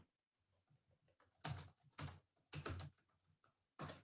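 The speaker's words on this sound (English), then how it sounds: "that was me typing my caption" Fingers typing a caption on a computer keyboard, quiet soft key taps at first, then several louder bursts of rapid clattering keystrokes, close up with no voices.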